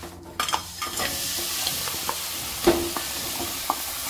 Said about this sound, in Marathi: आणि हा सगळा गूळ आता टाकून घेऊया